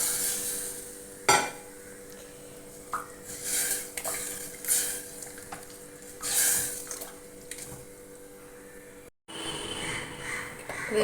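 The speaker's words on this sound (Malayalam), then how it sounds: "കുറച്ച് വെള്ളം കൂടി ഒഴിച്ച് കൊടുക്കാം." Water being added to chickpea curry in a cooker pot amid clattering pots and utensils, with splashing and scraping bursts over a steady hiss, close and moderate, no talking.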